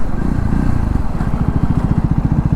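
A Triumph Scrambler 400X single-cylinder motorcycle braking hard from about 60 in fifth gear, its engine note thumping rhythmically and dropping in pitch as it slows, loud and close.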